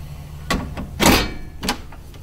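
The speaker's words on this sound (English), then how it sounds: "Take the whole glass off." Glass playfield cover of a pinball machine with a Chicago Coin or Stern Electronics style coin door, slid off in a few scraping, rattling bursts, the loudest in the middle, near and without speech.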